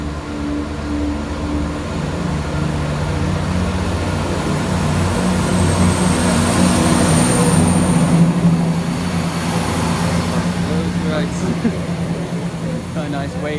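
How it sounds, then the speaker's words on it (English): A Class 170 diesel passenger unit pulls out of Burton upon Trent station on the 3:20 service to Nottingham, a steady loud engine rumble and hum that builds slightly mid-clip, with someone talking over it at times. "departing now is the 3:20 service to Nottingham"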